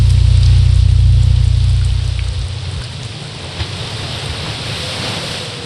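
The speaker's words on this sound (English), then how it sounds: "It suddenly started to rain." Rain falls in the adventure game Syberia 2 as a steady hiss, heavy and rumbling at first and then thinning to a softer, even patter, with no voices.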